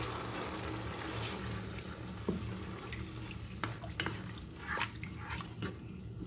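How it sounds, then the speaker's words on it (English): Water poured into a pot on the stove as a tilapia stew gets started, a steady splashing wash with small drips and clinks, fairly close, no talking. "There comes my water for stew."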